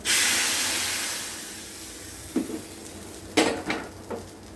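Turmeric and spices hit hot oil with a quick hiss as a tempering, followed by a few short sizzling bursts and light clinks of a pan, fairly quiet and close.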